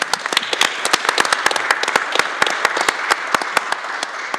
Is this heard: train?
no